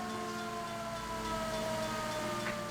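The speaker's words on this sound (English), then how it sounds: "I can't hear you over this siren." A steady, continuous police siren wail from the video game L.A. Noire fills the whole stretch, loud and unbroken, with no talking over it.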